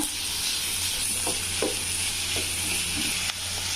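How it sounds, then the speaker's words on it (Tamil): Cut onion and capsicum sauté over a high flame in a steady, continuous sizzle, with a few soft spatula scrapes and stirs breaking through. "இதை நல்லா ஹை ஃப்ளேமில் வச்சு நல்லா வ வதக்கிக்கலாங்க"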